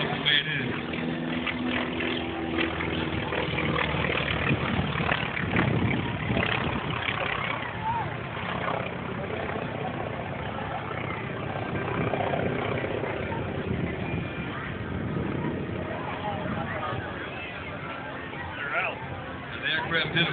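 A T-28 Trojan, a rebuilt warbird, runs its engine at the 2011 Keesler Air Show. The engine gives a steady, rumbling drone under continuous announcer talk.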